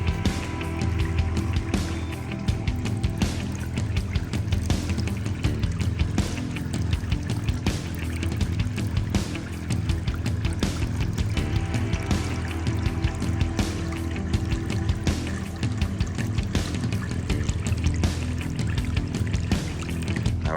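Water runs steadily through a gold sluice during outdoor prospecting, a dense continuous rushing and splashing flow that stays close and fairly loud for the whole stretch with no talk over it.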